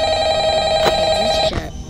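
Phone ringing in the horror video game Five Nights at Freddy's Ultimate Custom Night, a steady electronic ring tone held for about a second and a half, loud and close, ending with a short click.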